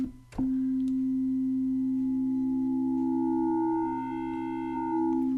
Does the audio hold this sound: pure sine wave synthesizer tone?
yes